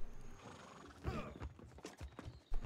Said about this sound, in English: Oh, he's feeding his horse.